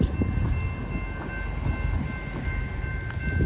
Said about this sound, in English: But wait, there's more. There always is. Another train.